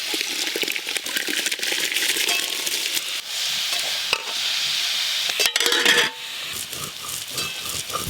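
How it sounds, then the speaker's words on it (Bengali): Washed rice is tipped into a pot of hot salted water for khichuri and stirred, a steady, close, hissing and rattling wash of grains and water with no talking. "জল গরম হয়ে গেছে এবার ধুয়ে রাখা চালগুলো সব দিয়ে দেবো"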